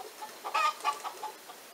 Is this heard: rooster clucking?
yes